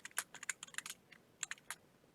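Quick, light keystrokes clatter on a computer keyboard in short bursts, close and quiet, with brief pauses between clusters.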